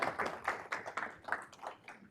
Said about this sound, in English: Let's give a round of applause to all our speakers